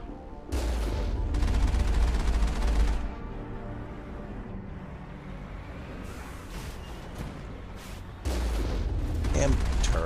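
Turret gunfire in the video game Mass Effect 1 comes in two heavy bursts of rapid booming shots, one near the start and one near the end, with a louder, muddier stretch of battle noise and speech-like sound in between.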